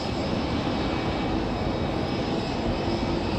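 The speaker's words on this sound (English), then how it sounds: "we still have, as you can see, the Air France departure coming your way" An Air France jet airliner departing Raleigh-Durham International Airport produces a steady, loud broadband engine roar throughout, continuous and unbroken with no voices.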